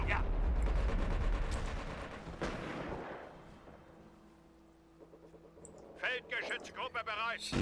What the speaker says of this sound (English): I'm gonna start dropping artillery barrages in the middle of his base